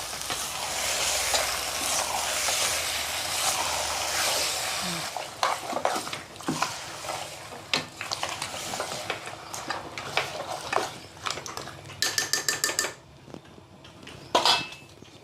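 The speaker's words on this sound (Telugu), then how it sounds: "మటన్ వేసుకున్న తర్వాత మంచిగా ఒకసారి కలుపుకుందాం" Mutton curry stirred in a pan, Ankapur style: a sizzling wash at first, then repeated metal scrapes and clinks of the spoon against the pan in uneven bursts.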